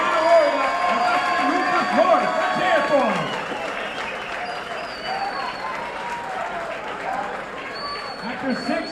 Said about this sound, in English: how about a nice round of applause for these 2 young warriors, Joseph Chip Perez